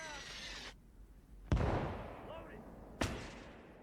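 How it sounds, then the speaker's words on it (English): Mortar rounds landing in the World War II strategy game Gates of Hell: Ostfront, two sharp booming impacts about a second and a half apart, each trailing off in a rumbling decay over softer battlefield noise. "it seems this mortar's causing a bit of mayhem for him now"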